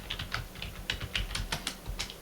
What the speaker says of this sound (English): I might type in Instagram